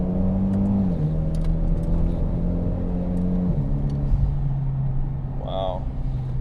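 A Mitsubishi Evo X engine drones steadily from inside the cabin while driving through corners, its pitch stepping down as gears change, with a person talking over it.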